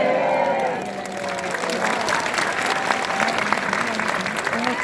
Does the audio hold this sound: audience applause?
yes